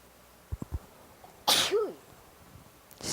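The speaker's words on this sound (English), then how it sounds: "I'm going to sneeze." A single loud, close sneeze bursts out alone in a quiet room after a few soft taps, with a sharp intake and explosive release.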